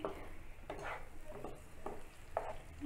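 Secret-recipe chicken being sautéed in a pan with tomato sauce and ketchup, giving a steady low sizzle broken by several soft scraping stirs spaced about half a second to a second apart, alone and fairly quiet.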